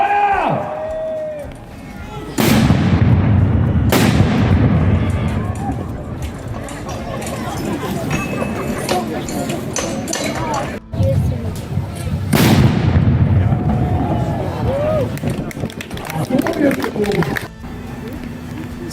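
Guns fire at a historical reenactment: two loud, booming blasts several seconds apart echo and roll away over an outdoor crowd, with voices and commotion throughout.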